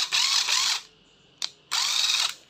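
A cordless screw drill with a quiet gear brake runs in two short whirring bursts, close up, with a small click between them and no speech.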